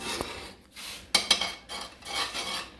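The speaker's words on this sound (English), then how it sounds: "I'm going around it with a spoon just to get any residual sticking around the edges there." A spoon scrapes around the edges of a pot of cream gravy off the heat, producing soft scraping and rubbing with a few sharper metallic clinks, close and fairly quiet.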